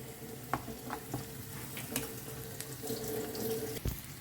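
Garlic and asafoetida tempering sizzles softly in hot oil in a home kitchen, a faint continuous frying hiss with a few scattered clinks and stirring taps, no speech.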